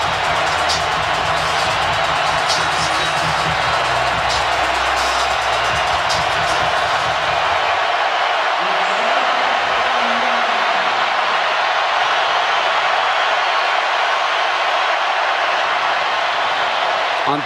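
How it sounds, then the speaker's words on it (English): Stadium crowd roaring at a college football game between Tennessee and Appalachian State, a loud continuous wash of cheering with whoops, swelling early then holding steady throughout. "this crowd has come alive."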